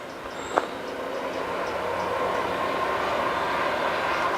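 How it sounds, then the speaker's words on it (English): A Class 153 and Class 170 diesel multiple unit pair bound for Birmingham rumbles past on a line near Rugeley and Hednesford, a steady mid-distance roar with a brief squeal near the start. "there's the train to Birmingham"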